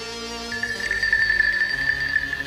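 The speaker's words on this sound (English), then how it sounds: "I'll send in the alarm right away" A cartoon alarm sounds, a single sustained high electronic tone that starts after a brief moment and holds steadily over low background noise.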